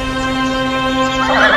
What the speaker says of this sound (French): juste après avoir sauté la barrière, je fais cabrer le cheval et je repars au galop vers la plaine